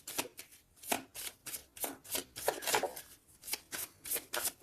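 Tarot cards shuffled and drawn at close range, producing a steady run of quick riffling, slapping bursts that repeat about twice a second with no talking.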